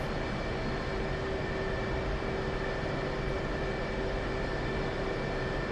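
A jet aircraft departs runway 25 in the DCS flight simulator, its engines making a steady, unbroken roaring drone with a faint whine running throughout.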